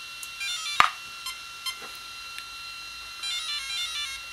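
A Castle Sidewinder 4 ESC in a Traxxas Stampede powers up with a few short, fairly faint electronic tones over a steady high whine.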